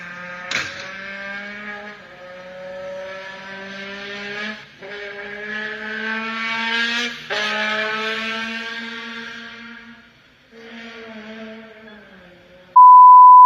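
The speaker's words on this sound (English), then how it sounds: "Muffler delete, it is a 3-liter twin turbo engine." An Infiniti Q50 Sport's 3-liter twin turbo engine with a muffler delete revs repeatedly, several rising and falling throttle pulls in a clear, brassy tone. A short electronic beep sounds at the end.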